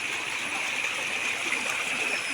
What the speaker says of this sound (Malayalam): ഈ മഴ പെയ്തപ്പോൾ പാടത്തു നിന്ന് പുഴയിലേക്ക് വെള്ളം ഒലിച്ചു പോകുന്ന കാഴ്ചയാണ് ഇട്ടത്